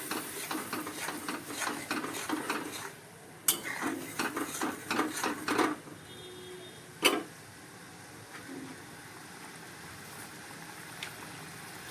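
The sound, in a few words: sautéing in a pan with jaggery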